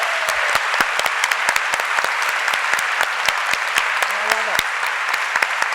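An audience at a fashion talk applauds a guest, a full, steady burst of many hands clapping with a few sharper individual claps standing out, loud and sustained with a voice briefly under it.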